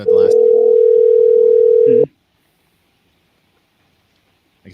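Telephone tone heard while calling someone: a loud, steady single-pitch tone lasting about two seconds, then cutting off to near silence.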